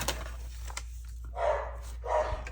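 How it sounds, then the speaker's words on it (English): Two short, close puppy barks about half a second apart ring out indoors over a low steady hum, with a few faint yips before them. "I need to calm the puppies down"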